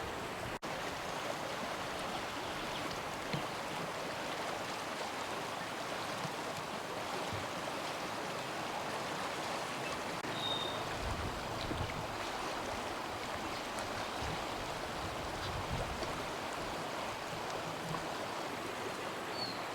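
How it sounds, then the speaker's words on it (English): Buller River in New Zealand running out of Lake Rotoroa, a steady broadband rush of flowing water that holds evenly throughout with no voices. "it's the start of the Buller River here, out of Lake Rotoroa"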